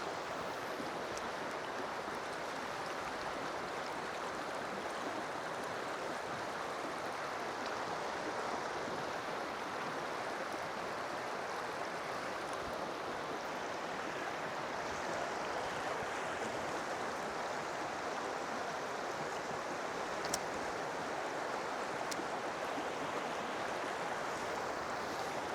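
Steady broadband rush of river water flowing over rocks around someone standing in the cool current, continuous and fairly close with no talk.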